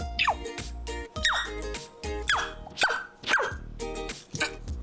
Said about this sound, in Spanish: Perro, es un perro.